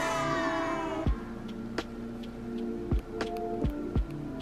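Button clicks on an iPhone 14 Pro Max in a clear case: a few sharp, separate clicks spaced irregularly over a low background hum, close and fairly quiet, with no speech.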